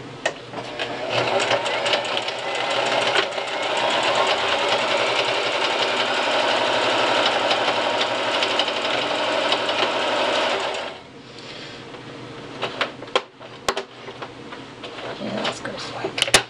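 A sewing machine back stitching along the edge of a prefold cloth diaper, running loud and steady for about eleven seconds before stopping, followed by quieter handling clicks and a voice talking.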